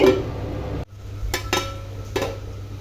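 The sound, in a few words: lid being put on a cooking pot of coconut rice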